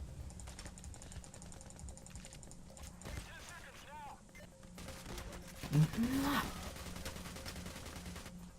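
Gunfire in the game PAYDAY: The Heist, bursts of rapid shots and mechanical weapon clatter amid game sounds, with a player talking over it.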